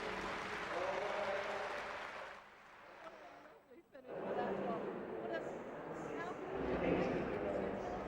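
Crowd applause greets a group win at the 1993 Crufts dog show, a broad steady clatter of clapping that dips briefly midway and then swells again over a large indoor arena.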